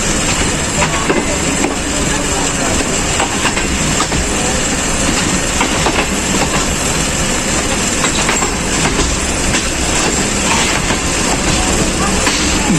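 A crowded passenger train on Pakistan Railways pulls into platform 3 of a station, with a steady loud rumble of wheels and carriages throughout and scattered clanks over the bustle of voices and crowd noise.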